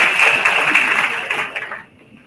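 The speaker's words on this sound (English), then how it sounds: "Please give a huge round of applause" Audience applause at the opening of a live event, a dense broadband wash of many hands clapping together, fairly loud and steady before tapering off into quiet near the end.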